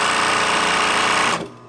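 A sewing machine stitches welt piping cord for slipcovers in a dense, steady whir that stops abruptly after about a second and a half, close and loud.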